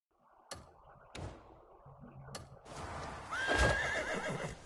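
A horse dashes in the Crimson Desert video game: a few sharp hoofbeat thuds, then a rush of galloping movement building louder with a rising whinny near the end.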